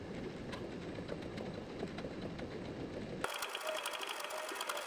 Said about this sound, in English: The sheets are all individually cut and creased.